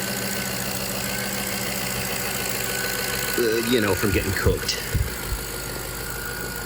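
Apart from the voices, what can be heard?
Jaguar XJ8 V8 engine idling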